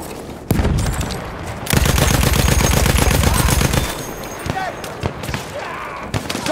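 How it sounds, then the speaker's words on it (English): Rapid submachine-gun bursts from an enemy in the World War I shooter Battlefield 1, a loud close stream of shots after an opening thump, then scattered impacts while a voice calls out. "Feindliche SMG!"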